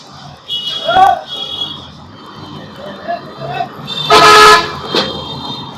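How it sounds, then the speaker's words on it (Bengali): Car horns honk from traffic on a busy roadside by a shop along a main road, with short toots early on and a loud, longer blast later, while a voice talks quietly underneath. "বিশ্ব রোডের সাথে দোকানটি হওয়ায় এখানে প্রচুর গাড়ির হর্নের আওয়াজ হয়"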